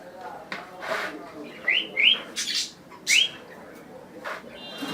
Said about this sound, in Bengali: ওই যে দেখেন আমার আরেকটা আরেকটা পাখি ওইটা সিটি মারে